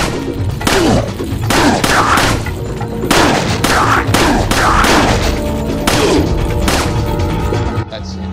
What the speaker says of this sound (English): Should have gone with the shotgun blast first and taken apart their shields and then taken them out with it.